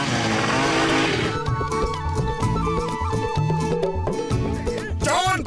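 A cartoon vehicle's engine buzzes and whines as it accelerates, a raspy sputtering motor tone mixed with background music and effects, loud and close throughout.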